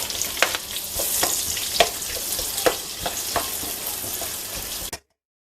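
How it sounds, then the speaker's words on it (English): Onions sizzle loudly and steadily in a hot pan for chicken adobo, with occasional crackles and pops, then stops abruptly. "You want to hear that sizzle."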